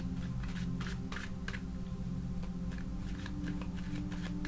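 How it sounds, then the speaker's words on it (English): Tarot cards being shuffled by hand, a run of soft riffling clicks and flutters over a steady low hum, close and fairly quiet with no talking. "I'm just going to shuffle a little bit more."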